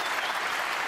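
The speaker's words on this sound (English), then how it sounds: "The crowd acknowledged that was the moment when Matthew Selt's hopes were extinguished" Applause from a snooker crowd at a 147 break match fills the space as a dense, steady wash of clapping, loud and even throughout this brief moment, with no voices standing out.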